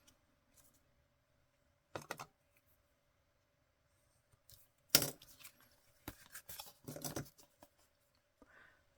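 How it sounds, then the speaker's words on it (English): Several short, crisp snips of scissors cutting window-envelope paper for pocket tags, with pauses between and a cluster of quick cuts near the end, fairly close and quiet. "so I'll just have to use scissors."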